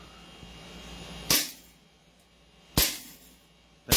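A Beretta SLV gas-powered pistol fires three sharp, loud shots at an uneven pace, each a crisp crack with a short decay over a quiet background.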